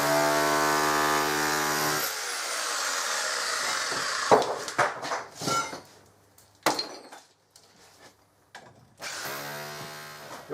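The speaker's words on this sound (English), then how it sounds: "I'm going to use my SDS drill with a chisel bit in" An SDS drill with a chisel bit makes a loud, steady drone with harmonic whine for about two seconds, then sporadic clattering impacts and breaking debris, with a brief resumption of drilling at the end.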